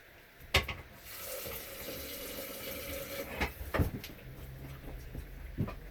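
Black rice and barley being rinsed under a running tap: a steady, close stream of water with sloshing, several sharp splashes and clunks from the bowl, and no voices.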